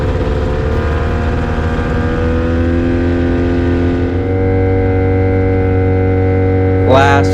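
An Avid Flyer light aircraft with a 670 engine idles steadily on the ground during a taxi test, a loud, even droning hum that continues throughout, with a brief rattle near the end and no speech.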